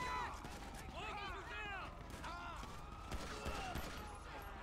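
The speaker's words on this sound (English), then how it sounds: "they're shooting my officer" Gang members firing at police in GTA5, rapid bursts of gunshots crackling over busy game noise, with someone talking over the fusillade.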